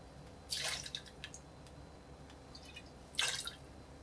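Dry vermouth and sloe gin poured into a cocktail glass in two short, close bursts of splashing liquid with a quiet pause between, with no talking.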